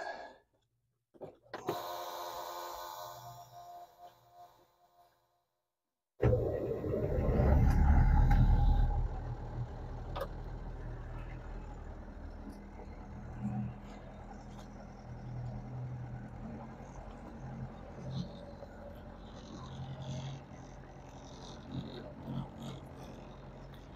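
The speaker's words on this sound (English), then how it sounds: "we got the diesel all fired up" Sailboat diesel on a 38-foot boat starting up and idling as it warms, a loud low rumble after a brief silent gap, then a steady throbbing drone that settles and carries on close by.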